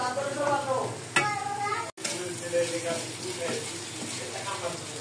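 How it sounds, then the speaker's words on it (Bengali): Spices for a crab curry fry in a pan with a steady sizzle and the scrape of a spoon stirring close by. A voice talks over it early on, and there is a brief cut partway through. "এখন হচ্ছে মশলা কষানোর পর্ব চলছে।"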